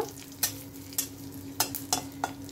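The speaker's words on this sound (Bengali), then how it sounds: "দিয়ে হালকা নাড়াচাড়া করে নেব।" Cashews and raisins fry in a pan for sabudana pulao while a spatula stirs them. A low, steady sizzle runs underneath five or six sharp scraping strokes at irregular intervals.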